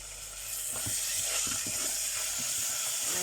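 Mola fish with dried fish sizzles and hisses quietly in a pan while spices are stirred in, a soft steady frying bed with a few faint scraping stirs, no talking.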